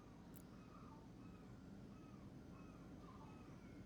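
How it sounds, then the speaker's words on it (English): Seagulls in a video game give faint, repeated mewing calls that sound almost cat-like, spaced irregularly over a steady low background hum. "The seagulls in the game make me think that I hear my cats."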